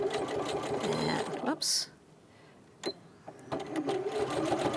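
Sewing machine stitching through thick layers of tote bag fabric in short bursts, pausing between runs, with a person speaking briefly over it.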